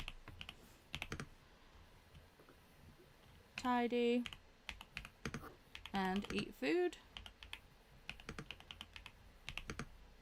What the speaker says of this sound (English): Oh, I love the sound of my new keyboard.